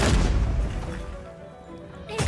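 A heavy gunlance wyvern stake blast in Monster Hunter Wilds, a dense booming rumble that lingers and fades, with a second hit at the end.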